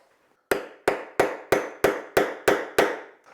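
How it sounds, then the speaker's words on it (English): Chisel chipping at the wood of a live edge river table: eight sharp, evenly spaced strikes, each ringing briefly before the next, close and loud with no talk. "chisel works pretty good, but it does mess up the wood pretty bad"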